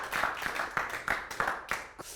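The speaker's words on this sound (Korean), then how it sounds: "박수 한번 치겠습니다." A small audience at a business lecture on growth and innovation gives sparse, separate claps, about six distinct hand claps spaced roughly a third of a second apart, fairly close and soft, with no talk.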